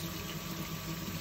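Cold water runs from a kitchen tap in a steady, quiet, continuous rush that stays even throughout.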